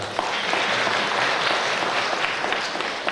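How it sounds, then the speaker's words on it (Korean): An audience claps steadily at a redevelopment plan briefing in a hall, giving a short, dense round of applause with no voices over it. "네, 다시 한번 박수 부탁드리겠습니다."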